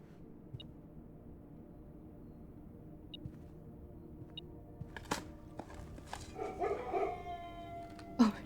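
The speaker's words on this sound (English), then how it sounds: "do they just bark every single time? Or most times that I dig something up?" A dog barking in the video game Blue Prince after something is dug up, heard as a few sharp, yipping barks and whines in the later part over a quiet in-game background.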